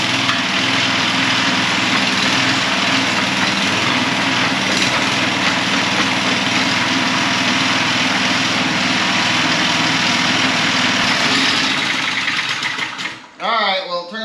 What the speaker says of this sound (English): I think we got a working throttle now. I bet it idles now.